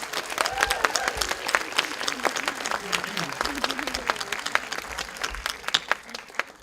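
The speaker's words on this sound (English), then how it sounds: "please, another round of applause for our volunteers" Applause for volunteers at a festival closing gala, scattered, moderately loud clapping from a crowd with sharp individual claps, joined by voices and murmuring throughout.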